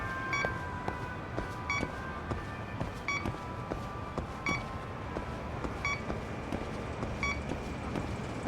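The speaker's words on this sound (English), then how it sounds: "beeping." Short electronic beeps from the video game Lost Judgment repeat at a steady rate of roughly one every 1.4 seconds, bright and tonal over a low, busy background of game ambience.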